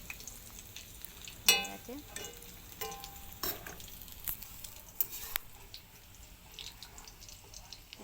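Fish-oil fritters frying in a little oil in a pan, a soft crackling sizzle with scattered pops and scraping stir sounds, fairly quiet, while someone briefly speaks.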